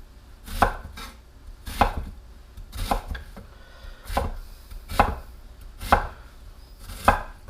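Knife chopping an onion on a cutting board, about nine evenly spaced sharp thunks at a steady slow rhythm, close and clear with no talking.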